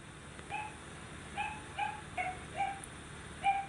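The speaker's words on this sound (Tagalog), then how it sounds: "Ang ingay ng aso." A dog barking at a distance in the early morning dark, six short faint yelps spaced roughly half a second apart over a quiet background.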